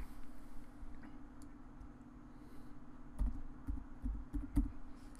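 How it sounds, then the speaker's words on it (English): Keys tapped on a computer keyboard while a name is typed into embroidery software, a quiet run of light clicks that grows busier and slightly louder toward the end, heard alone. "I'll add Jim for name 1"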